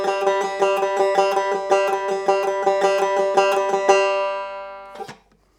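A bluegrass banjo plays a single-string lick in eighth-note triplets, a quick, even run of bright plucks that stops and rings out before a short handling noise at the end.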